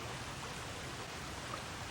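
A creek's water flows steadily beside a streambank, a continuous broadband rushing that stays close and even throughout, with no voices over it.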